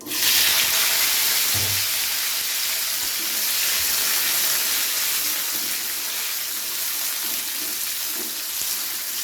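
Potatoes frying in hot oil with cumin for an okra-potato fry, a steady close sizzle and hiss filling the pan throughout with a few soft stirring knocks.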